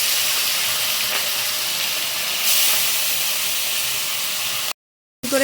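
Steady, loud sizzling hiss of small morola fish frying in hot oil, continuous throughout before cutting out abruptly near the end.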